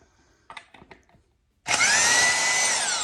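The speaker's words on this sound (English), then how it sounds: "Now I want to try to get this harmonic balancer bolt out. So got my trusty impact wrench here." An impact wrench works loose the harmonic balancer bolt on an LS engine during a swap: a few short rattling clicks, then a loud, sustained hammering buzz with a whining tone, close up and alone.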